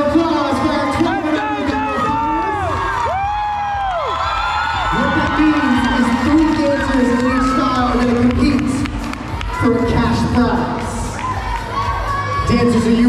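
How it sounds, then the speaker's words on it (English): Crowd at a street dance gala and awards night cheering, whooping and shouting, with children's voices prominent and scattered clapping, loud and sustained throughout with some talk mixed in. "Big round of applause."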